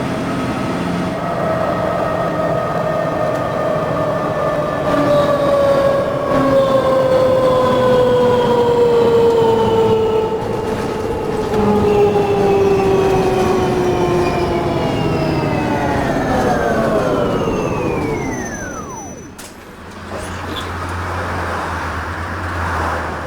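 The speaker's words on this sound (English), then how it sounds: "enjoy the sound of an MAN NL202 and some of these Polish roads" A MAN NL202 bus engine in the OMSI driving simulator drones steadily, its tone slowly falling as it slows, then drops away abruptly near the end before a low idle rumble.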